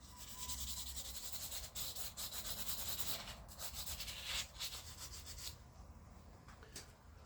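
Hand sanding of a knife handle to remove the last visible scratches, a continuous close, raspy rubbing with steady back-and-forth strokes that eases off near the end.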